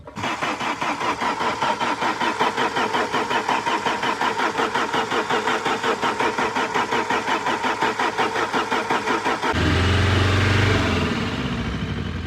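Saab 9000 car engine revved steadily during restoration of a crash-damaged sedan, a loud continuous rumble held throughout with a slight shift near the end.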